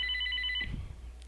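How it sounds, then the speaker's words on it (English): An incoming call sets a telephone ringing with a bright, trilling electronic tone for about half a second, then a low thump and rustle follow and the ring cuts off over a steady low hum. "give me a second, I got another phone call"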